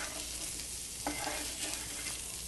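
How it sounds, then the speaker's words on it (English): Spoon stirring browning meat in a pot on a stovetop burner, a constant close sizzle with a few soft scraping strokes, with no voices. "Let's give it one final stir."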